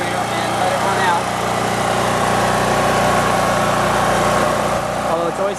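A small engine runs at a steady idle, a close continuous mechanical drone with a low even throb and no break, while someone talks over it.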